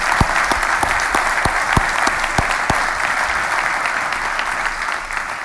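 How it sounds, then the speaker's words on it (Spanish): Warm audience applause at an international risk conference in Spain, a dense steady clapping from a large crowd filling the whole stretch at even loudness before easing slightly at the end. "me gustaría pediros un energético y cálido aplauso para él,"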